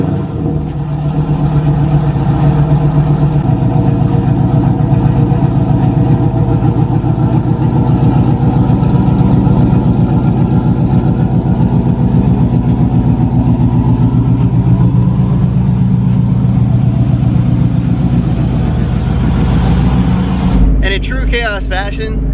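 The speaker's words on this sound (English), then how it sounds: "So let's give it a cold start." A car engine cold-starts and settles into a steady, loud, close idle with a deep rumbling note that drops slightly in pitch early on, running for about twenty seconds before cutting off into a brief clatter.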